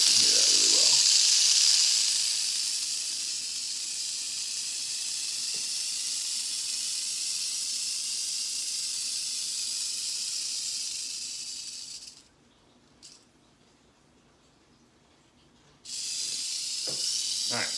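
A rattlesnake rattles close by, a loud continuous high buzzing hiss that runs for about twelve seconds, cuts out briefly, then resumes, with a faint voice at the start and near the end.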